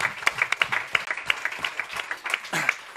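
Listeners at an Italian political book talk clap for the people who worked on it, a fairly close burst of uneven, individually distinct handclaps rising and thinning in waves, with a brief voice near the end.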